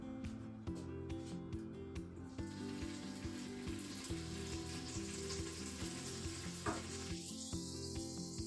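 Butter sizzles and fries in a Crockpot Express pressure cooker set to brown sauté, a steady crackling hiss with faint stirring and clinks of a utensil against the pot.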